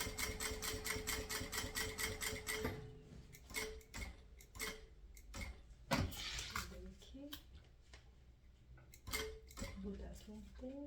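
A sewing machine stitching a fabric cat-shaped wallet, with a fast steady run of mechanical ticks at first, then sparser clicks and thumps as someone talks over it.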